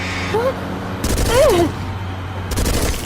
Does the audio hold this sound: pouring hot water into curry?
no